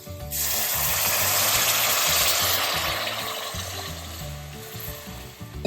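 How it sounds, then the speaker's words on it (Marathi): Water goes into a pan of sizzling onion and spice masala with turmeric, setting off a loud, continuous hiss and bubbling that slowly eases over several seconds. "आणि आपण पाणी टाकूयात"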